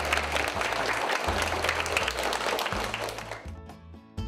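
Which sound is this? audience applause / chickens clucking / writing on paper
audience applause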